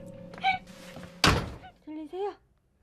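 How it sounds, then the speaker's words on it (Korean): A door gives a single loud, close thunk as it shuts, with a few quieter sounds before it and voices speaking around it. "그때 문을 열고 들어오는 차경?"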